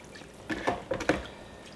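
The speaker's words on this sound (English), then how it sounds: "now we're going to dump this in the cold water." Blanched cauliflower dumped into a container of cold water, a few quick close splashes and sloshes in a kitchen, with no talk.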